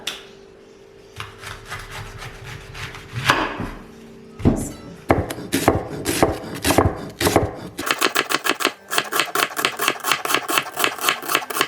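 A knife chops purple cabbage on a cutting board for sauerkraut, giving close, crisp, rapid cuts that speed into a fast, even rhythm near the end, with no voices.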